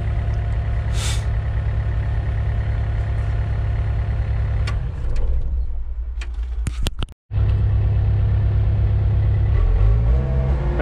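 Takeuchi TB153FR mini excavator diesel engine idling close by with a steady low rumble, dropping in level midway as it idles down, then cutting out to a brief near-silence before running again.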